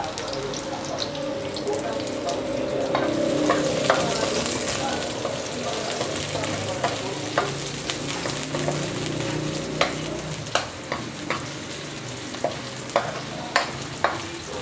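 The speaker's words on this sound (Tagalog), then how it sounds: "Inuuna ko lang tong bawang at atin na rin isusunod yung ating hiniwang sibuyas" Garlic and sliced onion sauté in a pan with a continuous close sizzle, and a spatula clicks and scrapes repeatedly, coming faster toward the end.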